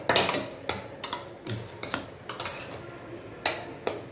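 Ground green chilli and cumin paste stirred into rice batter in a metal pot, a spoon scraping and clinking against the sides in uneven strokes, close and clear, with no voices.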